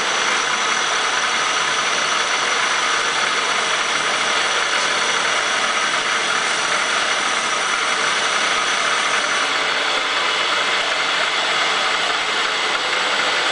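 A Bridgeport milling machine cuts a valve with its spindle at about 1500 RPM, feeding at two inches a minute, giving a steady, loud motor whine and hissing cutting noise with no break.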